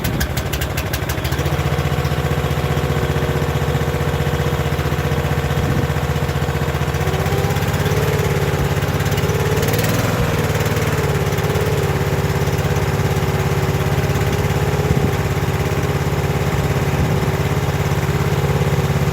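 A John Deere 2250 tractor engine runs steadily after starting, a loud, continuous close-up idle with a constant low rumble and no talk.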